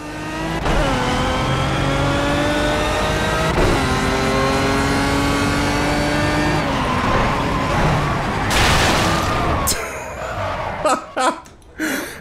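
A Pagani Cinque Roadster engine in Project CARS screams loudly as it revs up through several gear changes, with rising harmonic whines, before braking into scrapes and knocks near the end.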